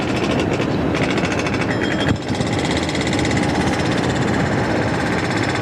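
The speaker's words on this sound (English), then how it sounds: "that jackhammering's a bit noisy" A jackhammer pounds away at Sydney Airport, a loud, steady rattling hammering that fills the whole stretch with dense broadband clatter and only a brief dip partway through.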